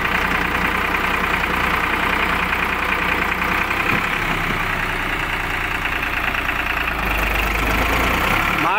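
A farm tractor engine runs steadily throughout, a loud, continuous rumbling drone with a slight knocking texture, close by and with no voices over it.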